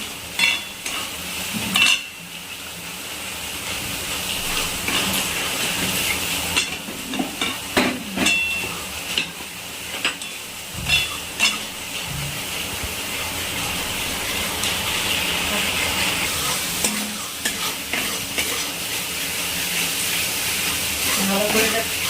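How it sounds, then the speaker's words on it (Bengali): Mustard hilsa curry with green chillies being stir-fried in a pan, a steady close sizzle broken by irregular scraping and stirring knocks throughout, with no voices. "ভালো করে এটা কষিয়ে নিচ্ছি একটু।"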